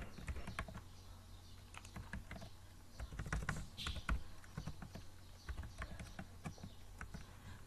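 Keys clatter in irregular bursts on a computer keyboard as a username and password are entered for a login, close and moderately loud with no voice over it.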